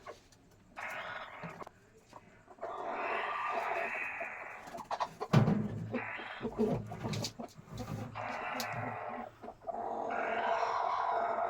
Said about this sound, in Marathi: ही आहे ती कोंबडी जी खूड झालेली आहे